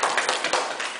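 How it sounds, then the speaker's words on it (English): Brief burst of audience applause for a volunteer at a magic illusions show, a loud, dense patter of hand claps lasting about a second. "Ladies and gentlemen, give her a big round of applause."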